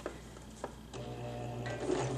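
Sewing machine starting to stitch through thick towel fabric for a bib, a few hesitant clicks followed by a steady motor whir that builds and holds, quiet and close with no talking.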